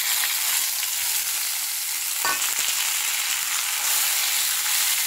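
A spice mix of coriander, cumin, chili, turmeric and crushed ginger fries in hot oil in a pan for a vegetarian chana curry. A loud, continuous close-up sizzle plays throughout, with one brief stirring scrape midway.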